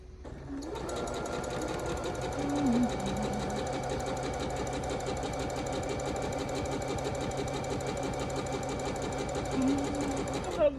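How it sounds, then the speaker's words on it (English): A sewing machine stitches a quilt block steadily and close, with a loud continuous mechanical whir. "Now go to the opposite corner"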